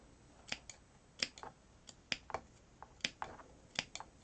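Scissors snip slits into felt for a plush candy corn wreath attachment, close and crisp, about a dozen separate sharp cuts in an uneven rhythm.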